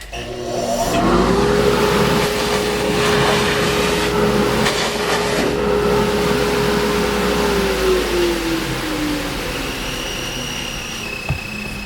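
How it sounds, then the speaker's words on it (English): A shop vacuum runs steadily in a woodworking shop, sucking up debris with a constant whine and a roar that shifts slightly in pitch, loud and close throughout, with no speech. "Vacuuming that up."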